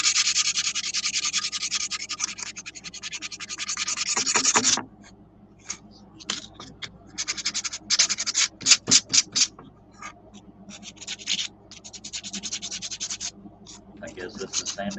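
Sanding in a scroll-saw woodworking shop gives a harsh, raspy scratching, steady at first and then broken into short, uneven strokes, close and fairly loud, with voices talking faintly underneath.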